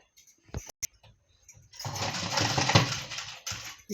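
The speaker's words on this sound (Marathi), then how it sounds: "आता ही फोल्डची शिलाई टाकून घ्यायची" A sewing machine runs a stitch along the fold of a blouse, a few clicks and taps giving way to a close, rattling whir that lasts about a second and a half.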